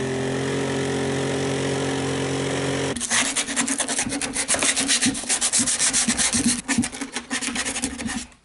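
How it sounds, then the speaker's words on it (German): A jigsaw cuts out an opening in a composite board. A steady tonal hum is followed by loud, rasping, rapidly pulsing sawing that runs on close-up for several seconds. "Das mache ich mit der Stichsäge."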